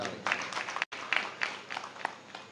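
An audience at a Guru Purnima religious gathering in Shampur claps to welcome the family of saint Dilipram Maharaj: a dense, moderately loud wash of applause with a brief gap partway through.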